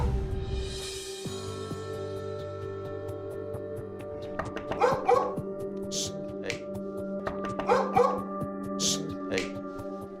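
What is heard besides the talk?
dog barking out of fear at door knock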